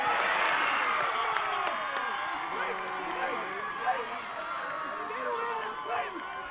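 A big crowd at a country football league A Grade grand final roars and cheers continuously in front of the club rooms, a dense sustained wash of voices with a commentator talking over it.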